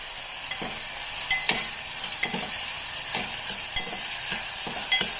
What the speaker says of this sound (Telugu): ఇలా బాగా మిక్స్ చేసుకునేసి మూత పెట్టేసి ఒక 5 నిమిషాల పాటు బాగా ఫ్రై చేసుకోవాలండి